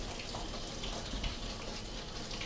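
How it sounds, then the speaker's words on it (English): A bottle rinser in a home brewing setup sprays a steady jet of hot water into beer bottles. It makes a faint, continuous hiss and gush with no pauses. "this rinses the insides of the bottles with a jet of hot water that activates when we press the bottle onto the faucet"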